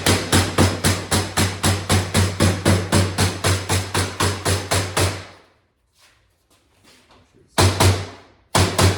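Metal spline being tapped into an aluminum screen mesh frame: a rapid, steady run of about twenty sharp, loud taps, a brief quiet gap with faint handling noise, then a few more taps.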